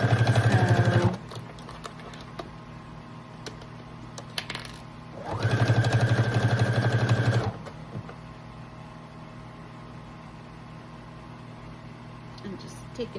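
Sewing machine stitching through thick layers of denim for a bag, running in two loud, steady bursts of about a second and two seconds, with quiet pauses between.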